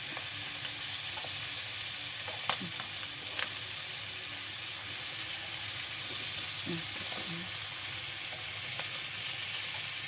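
Steady hiss of fish frying in hot oil runs throughout, with a few sharp pops and faint scraping stirs, fairly close.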